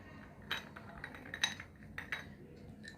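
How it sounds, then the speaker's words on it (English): Ice cubes clink one after another into a glass jar of water during a freezing-point experiment, several light, bright taps spread over a few seconds, faint and close with no talking. "place ice cubes over the surface of water"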